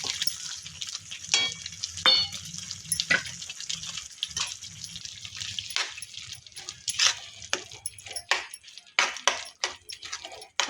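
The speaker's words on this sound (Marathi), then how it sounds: "त्यानंतर आता मी यात टाकून घेते हा सॉस, त्यानंतर पनीर टाकून घेते मी या मसाल्यात।" Paneer and sauce fry in a masala in a pan, a soft sizzle under repeated sharp clinks and scrapes of a spoon stirring.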